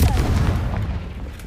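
A Confringo explosive spell in Hogwarts Legacy goes off as a heavy, booming blast with a deep rumbling tail, loud and close, fading over about a second.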